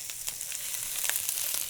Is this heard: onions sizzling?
yes